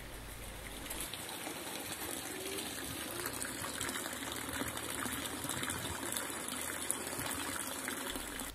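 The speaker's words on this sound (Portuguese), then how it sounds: "a levar a água para um depósito que está cheio, estando a água a cair para um tanque" Water from a wind pump pours steadily into a tank, a continuous close splashing gush that stays fairly even throughout with no voices.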